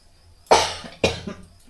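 Two sharp coughs about half a second apart, close and loud, with a quiet pause before them.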